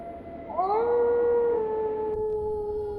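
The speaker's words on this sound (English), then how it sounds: "I used to sit here and listen to the howling wolves." Wolves howl in a video game trailer, one long rising then sustained howl with a second voice layered over it.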